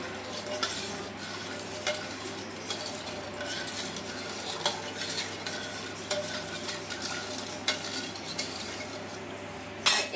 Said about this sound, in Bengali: বিনুনটা দিয়ে দিচ্ছি এতে ভালোভাবে ঘেটে নেবো একটু